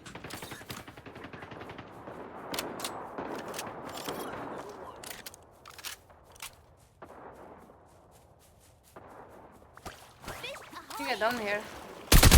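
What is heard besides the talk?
gunfire in the video game Fate Trigger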